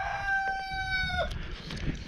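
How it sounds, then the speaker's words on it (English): A rooster crows once in a drawn-out, tonal call near the farm boat ramp, followed by quieter low clucking from the chickens close by. "those chickens want to say hello"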